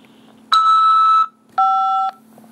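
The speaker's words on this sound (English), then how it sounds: "After the beep, press 5 to accept this call." Two clean electronic tones from a prison phone call system sound close and loud: a longer beep of about three-quarters of a second, a short pause, then a slightly shorter second beep over faint line hum.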